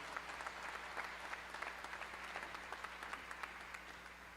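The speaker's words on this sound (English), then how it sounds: "So a round of applause for our retiring faculty and Provost Kirsting." At a 2021 undergraduate commencement, a large audience claps for retiring faculty and the provost, continuous distant applause with a low hum beneath it, fairly quiet overall.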